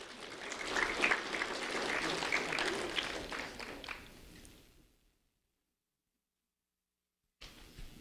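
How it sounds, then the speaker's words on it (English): Audience applause at a community recognition ceremony for a man called up to be honoured: crowd clapping that is fairly quiet overall, tapers off into silence about halfway, then briefly resumes at the very end. "a round of applause for Stephen McAnally"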